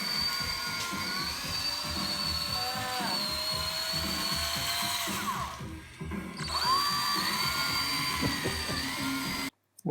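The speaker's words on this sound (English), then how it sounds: "it was Mason's turn to learn how to use a cordless drill." A cordless drill whines steadily while driving into pieces of a wooden table, with pitch shifts as the motor loads and eases, a brief drop near the middle, then an abrupt stop at the end.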